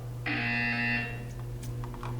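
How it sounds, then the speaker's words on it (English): A buzzer in the Portal 2 video game gives a single loud, steady electronic tone lasting about three quarters of a second, followed by quieter game ambience. "buzzer"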